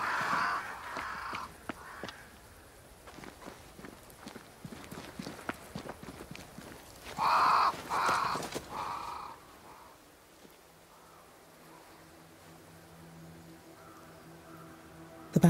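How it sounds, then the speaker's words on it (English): Crows cawing around a great tree in the video game Banishers: Ghosts of New Eden, a few harsh calls rising over a busy ambient bed with light hoof-like clatter, then fading to a quieter hum. "Crows. They flock to that great tree up there."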